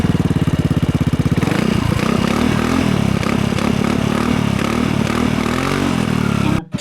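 A 2014 Yamaha Xmax 250 ABS scooter fitted with an Akrapovic exhaust idles up close, a loud, steady, throbbing engine note that stays even for several seconds, then cuts off abruptly at the end.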